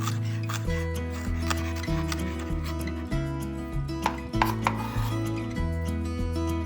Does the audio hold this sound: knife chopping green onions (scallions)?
yes